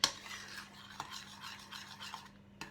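A spoon stirs anchovy into pizza sauce in a pot, making soft scraping and swishing sounds with a few light knocks against the pot, quiet and close with a steady low hum underneath.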